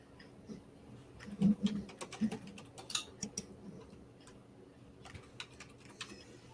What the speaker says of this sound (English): I was expecting the talking to cover up my typing.